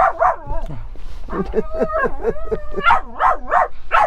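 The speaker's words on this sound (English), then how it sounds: "Just someone going past. She's a good little guard dog" A puppy acting as a guard dog barks at someone passing by: a quick run of high, yappy barks and whiny yelps, close and fairly loud, with a person talking over part of it.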